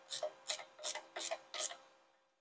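Brake adjustment being tightened on a Farmall tractor's disc brake, five evenly spaced metallic ratcheting clicks in quick rhythm, close and clear, then quiet.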